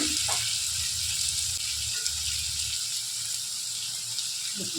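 Chopped banana flower fries in a pan, giving a steady, close sizzle and hiss with a few soft stirring scrapes, no voices.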